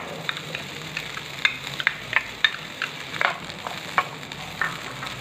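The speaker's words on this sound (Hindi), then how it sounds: "कॉर्न को हमें फ्राई करते हुए" Corn frying in a tablespoon of hot oil in a pan makes a steady, even sizzle, broken by scattered small pops and light stirring clicks, close and clear with no voices.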